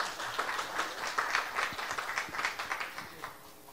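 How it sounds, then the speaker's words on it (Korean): Faint, distant audience clapping at a joint press briefing on the Siheung Baegot Seoul National University Hospital construction project, a scattered run of rhythmic claps that slowly thins out. "큰 박수로 맞아주시기 바랍니다."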